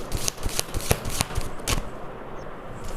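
Tarot cards shuffled by hand, a quick series of close, papery riffling flutters and soft slaps that thin out toward the end.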